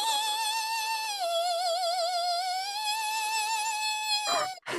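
A human voice imitates a spooky Halloween ghost noise, producing a long, wavering, vibrato-laden hoot that slides down and back up. It is sustained for over four seconds, close and clear, and ends with a brief breathy cutoff.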